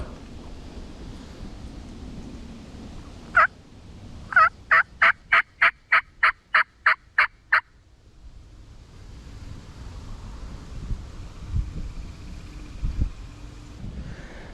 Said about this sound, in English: There he goes, he gobbled at me.